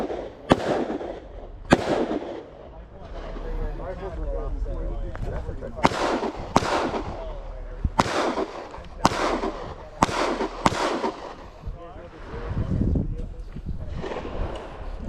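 Pistol shots ring out at an outdoor rifle association range in Hawaii during a transition drill, sharp loud cracks spaced irregularly across the clip, with people talking in between.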